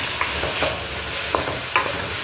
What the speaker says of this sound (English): Meanwhile, I've got some coconut oil in the pan. You can also go oil-free if you like. And then I'm sauteing an onion.